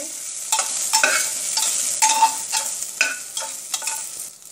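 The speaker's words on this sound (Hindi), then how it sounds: "बस हमें इतना ही फ्राई करना है" Nutrela soya chunks fry in oil in a pot, a close crackling sizzle broken by repeated scraping stirs that land roughly every half second, with no talking.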